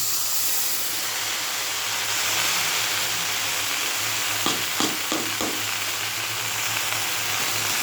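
Saag greens hitting hot oil in a pan, a broad continuous sizzle and hiss with a few stirring scrapes and knocks partway through, close and steady with no talk.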